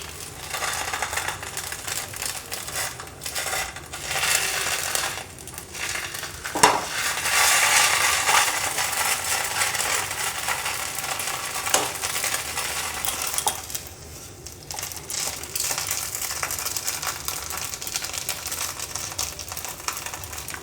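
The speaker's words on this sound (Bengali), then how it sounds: "এবার একটা স্প্যাচুলার সাহায্যে এটাকে আমি ফোল্ড করব।" Patishapta pitha, a Bengali rolled crepe, being folded with a spatula in a wok, giving soft scraping and light metallic clinks over a steady background sizzle, with a sharper tap near the middle; no talking.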